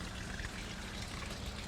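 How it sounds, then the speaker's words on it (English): Water trickles steadily along a small backyard garden stream, a continuous close wash of splashing and babbling with no pauses and no voices. "the sound of the water adds a little bit more benefit for you too"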